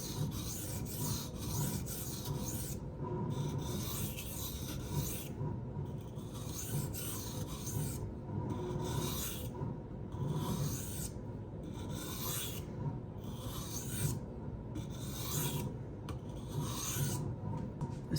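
Protech Strider PT knife with a 154CM blade stroked across a 1000 grit sharpening stone, a steady rhythmic rasping scrape repeating in even passes, close and alone with no talking.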